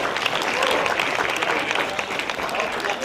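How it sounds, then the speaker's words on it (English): Loud, sustained applause from a crowd at a veterans program honoring elderly veterans, dense clapping continuing steadily throughout with some cheering mixed in. "Stand up, give them a clap."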